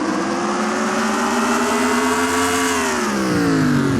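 Race cars in a NASCAR-style video game roaring off the green flag at Martinsville, a dense layered engine drone with rising and bending pitch as several cars accelerate together, loud and continuous with no talk.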